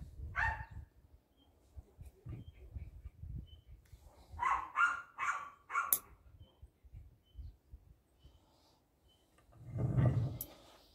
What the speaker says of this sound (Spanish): Son los perros insoportables.